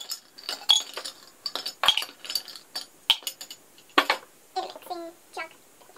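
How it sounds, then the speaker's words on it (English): Ice cubes dropped into a glass for a tea cocktail, a series of sharp clinks and rattles in uneven bursts, close and fairly loud, with brief stirring-like scrapes. "I'm going to need to put some ice cubes."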